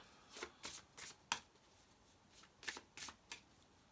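Angel script cards being shuffled, giving about eight soft riffling bursts in an irregular rhythm, quiet and close with no talking.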